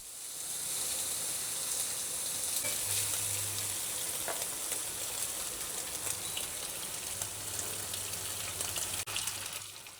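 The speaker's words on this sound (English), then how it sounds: "Now, I'll stir-fry the pork until it's browned and fragrant." Pork stir-fries in a hot pan with a steady, hissing sizzle, broken by occasional soft scrapes and clicks from stirring, close and moderately quiet, with no talking.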